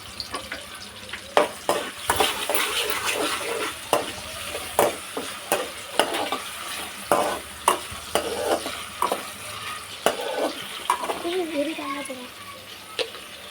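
Ginger garlic paste fries in a pan with a constant sizzle, broken by repeated scraping stir strokes close by, and a voice speaks briefly toward the end.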